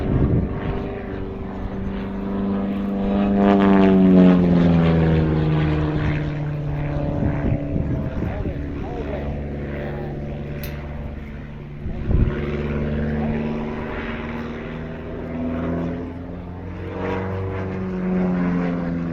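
A Pitts aerobatic propeller plane performing an air show display, its engine note rising and falling as it swoops and rolls, loud and fairly close, with pitch sweeps as it passes.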